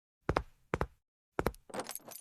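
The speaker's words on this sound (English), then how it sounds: "Bring the keys." A small bunch of keys jingles close by in three quick bursts of metallic clinking, separated by brief silences, the last burst longer and more scattered.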